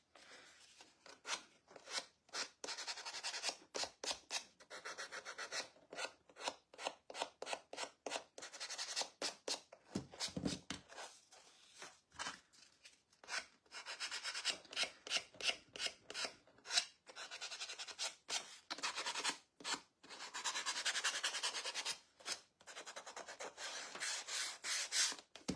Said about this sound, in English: This is just a little finger sander.